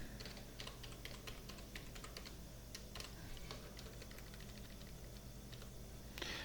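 Computer keyboard typing, steady quiet clicking keystrokes over about six seconds with a slightly louder key press near the end, like an Enter key, over faint background hum.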